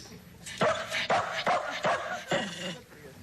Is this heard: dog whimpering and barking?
yes